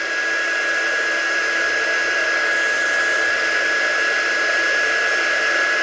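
A hair dryer blows steadily on wet dye spray over paper, a loud continuous whooshing roar with a high whine and no pauses.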